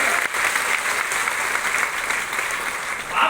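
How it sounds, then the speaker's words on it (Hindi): Loud, dense applause from a large audience at an outdoor talk in the rain, sustained clapping throughout with no speech on top. "एक बार जोरदार तालियां के लिए।"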